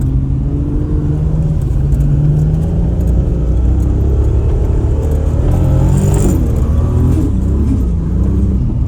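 Heavily tuned 1000 hp Toyota Supra MK4 drifting on Arctic snow with antilag and screamer pipe, its engine droning loud and close with repeated revving swells and harmonic sweeps throughout, no talk.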